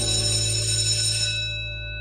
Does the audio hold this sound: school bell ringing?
yes